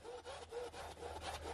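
A fake Tusk RC crawler tire is rubbed back and forth on a desk blotter, making a rough, raspy scraping in several rhythmic strokes, quiet and close with no talking.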